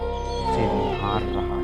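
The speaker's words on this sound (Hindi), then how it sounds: "चारों तरफ सन्नाटा और सियार के रोने की आवाज़ आ रही थी।" Jackals howl at night across open farmland, long wailing tones that rise and waver, with a narrator's voice speaking over part of the sound.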